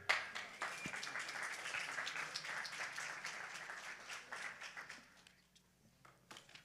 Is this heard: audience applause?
yes